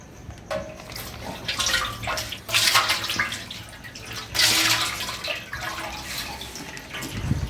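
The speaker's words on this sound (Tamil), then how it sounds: "இப்போ வந்து நம்ம கடல் ரீஃபைண்ட் ஆயில் 3 லிட்டர் ஆட் பண்ணிக்கலாம்." Three litres of refined oil pours in a steady, gurgling stream into a large teksha pot for a 15-padi Dindigul mutton biryani, with louder surges of splashing liquid partway through and no talking.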